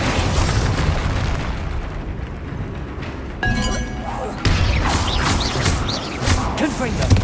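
The Bombarda blasting spell in Hogwarts Legacy, cast during a troll fight: loud booming explosions with sudden onsets over a rumbling combat bed, along with spoken voices.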